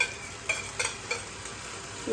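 Spices crackle and sizzle in hot oil for a tadka, a soft continuous frying hiss with a few stirring scrapes, close but fairly quiet.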